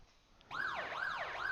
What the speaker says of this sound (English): Those sirens you can hear in the background indicating that the race session has begun.